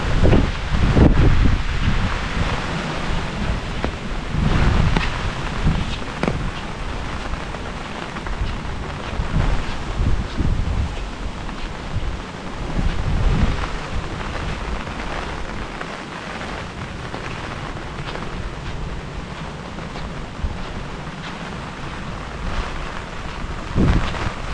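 A heavy rainstorm pours over a Japanese village cemetery in a continuous loud wash of rain, with low thunder-like rumbles and gusty surges. No one speaks.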